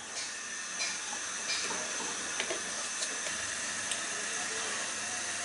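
Sugar syrup flavoured with cardamom boils on the stove, giving a steady, even hiss with small bubbling pops and faint clicks scattered through it.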